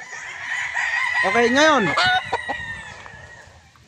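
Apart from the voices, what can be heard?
roosters crowing and clucking at game farm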